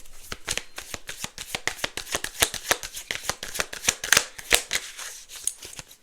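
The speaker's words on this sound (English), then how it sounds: "I don't never really shuffle like that." A deck of tarot cards is shuffled by hand, giving a rapid series of crisp riffling snaps and flutters, close and loud with no talking.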